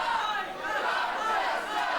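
Wrestling arena crowd at a GWF show cheering for Crowchester, a steady roar of many voices with shouts rising and falling throughout, loud and continuous.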